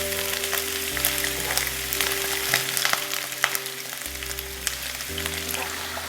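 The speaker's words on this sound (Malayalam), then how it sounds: "വെളിച്ചെണ്ണ ചൂടായിട്ടുണ്ട്. ആദ്യം തന്നെ നമുക്ക് ഇതിലേക്ക് ഇഞ്ചി ചേർക്കാം." Ginger frying in hot coconut oil, a steady close sizzle with fine crackles and occasional sharper pops that runs unbroken throughout, with a low hum underneath.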